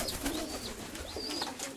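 A pigeon coos nearby in soft, rolling repeated calls over a background of other birds and faint ambient noise.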